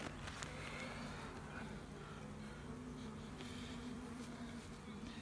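Honey bees drone around comb in an apiary, a soft continuous buzzing of many insects with individual bees passing closer now and then, faint and steady throughout.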